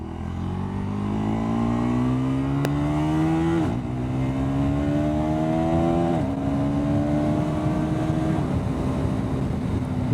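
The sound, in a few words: KTM Duke 390 motorcycle accelerating hard on road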